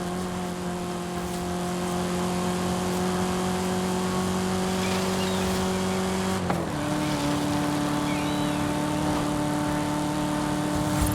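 A Camaro engine drones at steady high speed in a racing video game, a constant loud whine that drops to a lower pitch after a brief shift partway through, with no voices.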